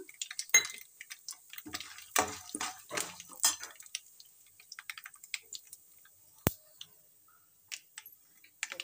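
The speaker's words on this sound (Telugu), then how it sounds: "ఇంకా పల్లీలు వేస్తున్నాను" Peanuts tumble into a pan for tamarind rice, a quick run of close, sharp rattles and clicks that thins to a few scattered ticks and one crisp knock.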